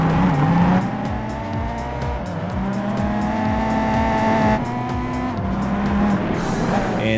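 A race car in a PlayStation 2 racing game roars around a track, its engine droning at steady high revs with brief tire squeals and shifts in pitch as it corners.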